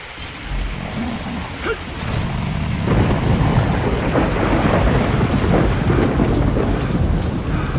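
Steady roar of a hailstorm on a multiplayer map in Gears of War 2, a dense, loud wash of pelting ice and rumble that swells after a couple of seconds and holds, with no voices.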